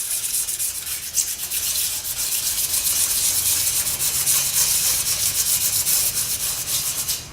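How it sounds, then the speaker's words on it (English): Yamaha R6 brake pads being roughed up by hand on 220-grit sandpaper, a steady, close, hissing rub that continues without pause. "This is a piece of 220 sandpaper."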